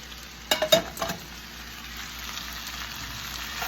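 Squash and onion hit a hot pan with a few clattering scrapes of stirring, then settle into a steady, soft sizzle of frying.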